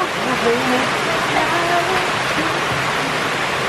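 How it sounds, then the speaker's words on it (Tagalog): Dense, steady hiss of heavy rain pouring down, with a voice speaking faintly underneath. "ang lakas ng ulan"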